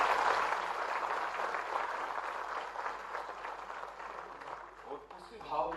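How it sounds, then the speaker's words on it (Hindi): Audience applause at a state-level conference in Bhopal, a broad steady wash of clapping held for several seconds at moderate loudness, thinning slightly toward the end. "जोरदार तालियां बजाए इस बात के"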